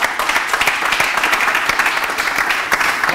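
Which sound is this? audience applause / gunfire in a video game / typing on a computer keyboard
audience applause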